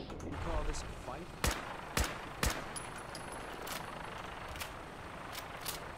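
Gunfire in Fallout 4: a few sharp, separate shots spaced about half a second apart, then fainter scattered reports, set against a steady low game ambience.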